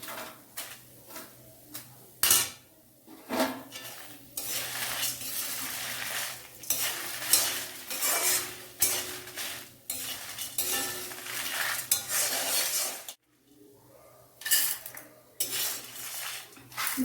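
Fenugreek and coriander seeds stirred in a pan as they fry, with repeated metal spoon scrapes and clinks against the pan over a faint steady sizzle, in an irregular rhythm with brief pauses.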